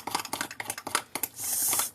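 Cornbread batter being mixed by hand in a bowl, a quick run of close, light clinking taps from the utensil against the bowl, ending in a brief steady scraping swish.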